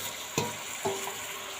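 Big pond fish, mouti, added to hot oil in a pan, close frying sizzle with two sharp utensil clinks over a steady hiss, no talk.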